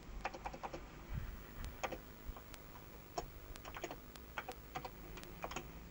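Rapid, irregular clicking from a computer keyboard being typed on, close and fairly quiet, with bursts of keystrokes and short pauses and no talking.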